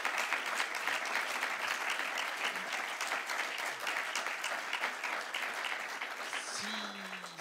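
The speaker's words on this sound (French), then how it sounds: "je pense qu'on peut encore applaudir Thierry Coste d'être venu" An audience applauds Thierry Coste at a talk on the future of the countryside, a steady, dense wash of clapping that carries on evenly from start to finish with no voices over it.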